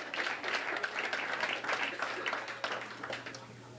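Comedy-show audience claps in answer to a question about evolution, a moderate, fairly distant round of applause that swells and then tapers off near the end.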